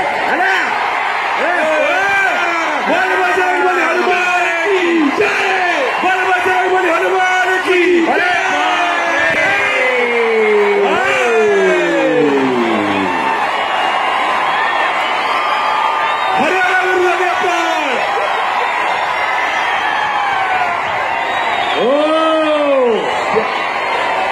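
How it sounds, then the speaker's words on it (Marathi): A huge crowd at an outdoor kushti wrestling bout in Maharashtra featuring Deva Thapa of Nepal, with sustained yelling, whoops and bellowed cries rising and falling over a constant roar. A voice talks over it. "जोश आणि जल्लोष चालू झालेला"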